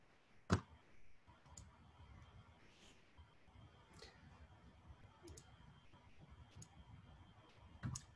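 A computer mouse clicking during software work, a few sharp faint clicks spaced across several seconds over quiet room noise.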